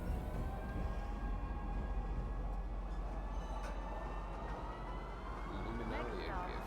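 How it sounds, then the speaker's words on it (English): A train pulls into a station in Star Citizen, its loud, steady rumble and rising squealing tones filling the scene as a voice speaks over it. "Step away from the platform edge when train is approaching."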